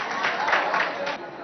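Audience applause and cheering at a school event in Chad, a short burst of clapping and acclaim with a voice talking over it.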